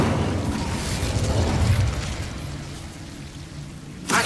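Incendio fire spell cast in Hogwarts Legacy, a loud roaring whoosh of flame with a rumbling burst that gradually fades, ending in a sudden sharp crackle, with no voices.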